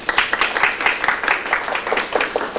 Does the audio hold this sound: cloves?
no